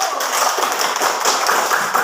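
A classroom of students clapping for group 1 after a plant-parts lesson, a dense, bright burst of many hands lasting about two seconds.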